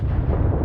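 A deep, rumbling explosion in Warhammer 40,000 Rogue Trader, a brief heavy low boom filling the whole moment with no talk over it.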